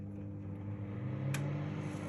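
A Toshiba microwave oven runs while heating water, giving a quiet, steady low hum with a faint mechanical drone and a brief click near the middle.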